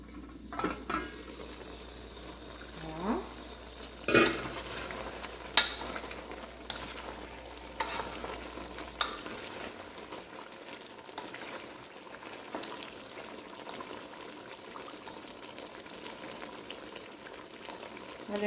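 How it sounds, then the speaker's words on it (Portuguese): Pork ribs fry in oil in a pan while being stirred, a steady sizzle with occasional scrapes and clinks of the utensil against the pan, close and moderately loud throughout. "Vocês estão notando que ela tá fritando só no óleo."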